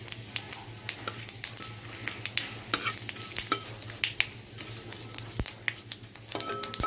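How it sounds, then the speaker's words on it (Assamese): Dried chili, bay leaf and whole cumin frying in hot oil, a steady faint crackle broken by scattered small pops and clicks, with a low hum underneath and no talking. "এতিয়া তেলত মই শুকান জলকীয়া আৰু তেজপাত দি দিলোঁ"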